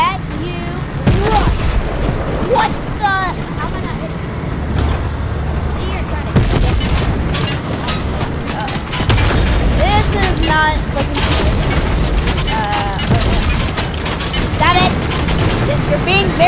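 Gunfire in the video game Fortnite during a solo squads match, repeated sharp shots and booms from several directions over a steady game soundscape, with a player talking throughout.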